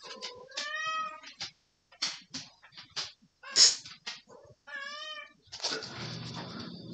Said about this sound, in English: Speaking of my white cat.